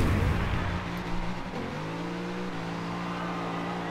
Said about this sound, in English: I was drifting that whole time.